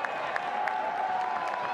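A large crowd at Arlotta Stadium cheers and applauds steadily at a Syracuse vs Notre Dame men's college lacrosse game, a sustained roar with scattered claps, heard from a distance.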